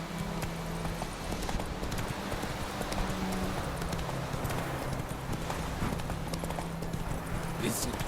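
Hooves of Roach, the horse in The Witcher 3: Wild Hunt, clip-clopping in a steady rhythmic gait, continuous and moderately loud over a dense game soundscape.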